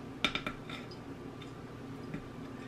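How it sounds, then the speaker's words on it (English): A big spoon hand-stirs flour into pound cake batter in a bowl: a quick cluster of light clinks against the bowl, then quiet, soft stirring with a faint tap or two. "I'm actually going to hand stir it, because I, again, do not want this to be over mixed."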